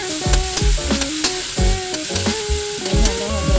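Squash stirred in a hot frying pan, sizzling close up under repeated scraping and clanking strokes of a utensil against the pan, several in quick rhythm, with no voices.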